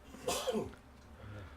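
A single sneeze, fairly close and moderately loud, followed by a brief breath and quiet room tone.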